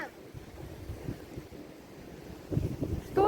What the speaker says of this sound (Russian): На улице такой ветер.